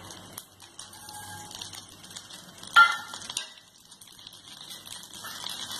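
Cumin seeds hitting hot oil in a pan for spicy potato curry, giving a sudden loud crackle that settles into a steady hissing sizzle, close by and with no talking.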